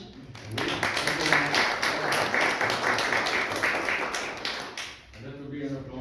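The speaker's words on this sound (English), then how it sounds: "That will be an applause for Nordic Ukraine Forum too, and for Jan Riise for great moderating" An audience at a Riksdag forum discussion on the EU and Ukraine breaks into sustained applause, many hands clapping densely for about five seconds before tapering, with a voice briefly audible afterward.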